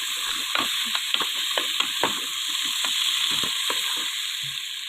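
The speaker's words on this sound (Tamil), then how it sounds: "இப்போ வெங்காயத்தை கூட்டி கிண்டணும்" Onions being stirred and sautéed in a pan, a spoon scraping and knocking irregularly against the metal over a constant steady sizzle, close by with no talking.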